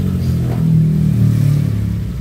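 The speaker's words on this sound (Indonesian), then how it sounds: "Nah, si motor dia masih hidup" A Honda Vario 125/150 scooter engine idles close by with a steady, even low hum, still running after its battery terminal was disconnected.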